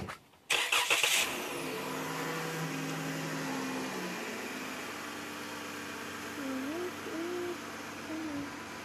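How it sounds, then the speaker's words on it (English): A car engine starts with a sharp burst, then idles and runs steadily as the car is moved, with rising and falling engine tones and no talk over it. "And she's gonna move the car."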